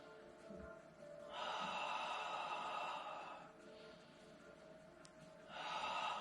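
Slow, deep breaths during a Pilates exercise, heard close and soft as a long airy inhale, a quieter lull, then another inhale building at the end, with no talk over them.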